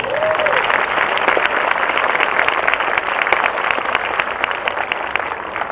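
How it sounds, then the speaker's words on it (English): Graduation ceremony crowd applauding at a high school event, loud, sustained clapping with sharp individual claps standing out, continuing throughout without speech. "So I want to give you a round of applause for that."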